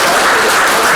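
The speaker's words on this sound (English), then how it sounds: "let's have a big round of applause for Rajdeep" Audience applause for a guest speaker at a seabird migration talk, a dense, loud wash of clapping filling the whole short moment without a break.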